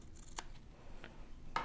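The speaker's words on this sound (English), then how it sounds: "I took my cloud and some scissors, and I just cut" Scissors snipping through a paper cloud for a stamped card, three short crisp cuts spaced apart, close and quiet, with no talking.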